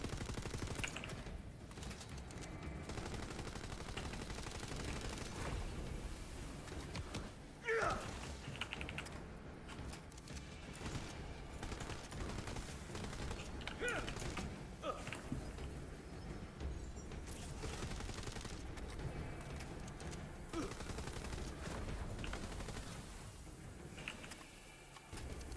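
Rapid gunfire and ability effects from the looter-shooter game Tiny Tina's Wonderlands, with the REDUX overhaul in endgame combat. The bursts are dense and continuous under a steady bed of game sound and music, with occasional voice chatter.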